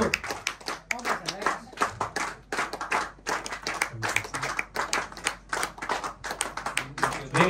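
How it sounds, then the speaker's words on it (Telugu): A group of people claps together in a steady, fast rhythm throughout, with voices talking over the beat in a meeting or gathering setting. "ఏం సార్ క్లాప్స్ మర్చిపోయినా?"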